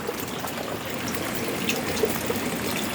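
Mountain spring water piped to a house, flowing without pause in a steady, even trickling rush, close by and alone.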